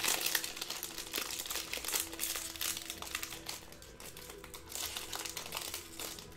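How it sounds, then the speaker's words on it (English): A 2015-16 Panini Limited basketball card box is being torn open, with close crinkling and crumpling of cardboard and wrapper in quick irregular bursts and no talk. "Just had to tear it open like the Hulk."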